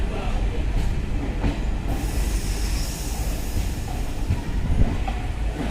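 The Bhavnagar–Banaras train rumbles past close by, a steady low roar of wheels on rails with faint clicking, continuous throughout.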